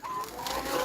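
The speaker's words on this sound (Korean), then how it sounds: "닭들 바글바글합니다." Crowded coop of chickens, about 150 birds, with soft overlapping clucks and coos in a steady, close murmur and no talking.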